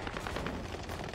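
Gunfire in Modern Warfare 2 online multiplayer, a dense, loud burst of rapid shots and blasts packed tightly together over a short moment, with no talk.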